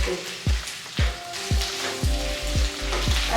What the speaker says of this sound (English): just in oil I am frying